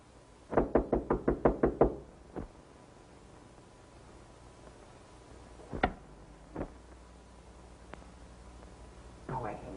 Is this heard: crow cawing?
no